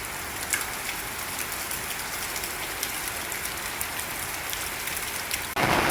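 Steady rain falls on surfaces outdoors, a dense continuous patter at close range with no voices, swelling briefly louder at the very end.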